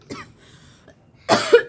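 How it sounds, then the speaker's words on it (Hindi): A woman coughs up close, one short cough followed after a pause by a louder, harsher burst that trails into a voiced tail, with nothing else heard. "मम्मा को खांसी हो गई।"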